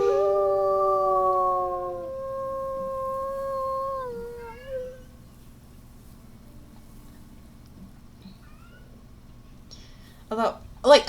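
A wolf in WolfQuest lets out a long, clear howl that holds steady, then bends and trails off. A few seconds of near quiet follow before brief noisy bursts close the stretch.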